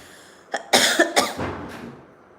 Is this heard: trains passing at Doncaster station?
no